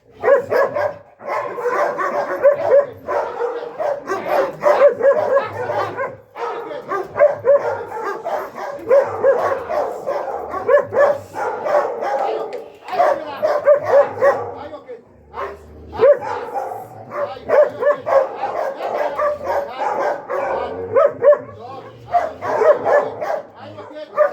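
A dog barks and yips repeatedly in bursts throughout, close by, with fairly steady energy and brief pauses, some whimpering mixed in.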